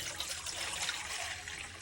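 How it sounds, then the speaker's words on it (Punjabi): Water pours and trickles steadily into a washed bowl for pigeons for a couple of seconds, a soft continuous splashing close by with no talking. "ਧੋ ਕੇ ਇਹਨਾਂ ਨੂੰ ਪਾਣੀ ਪਾ ਦਈਏ"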